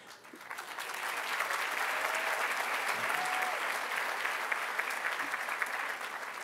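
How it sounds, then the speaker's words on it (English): A large audience at a university convocation breaks into sustained applause for a newly introduced MacArthur Fellowship–winning faculty member, clapping swelling quickly and holding loud and even throughout. "Because of your round of applause,"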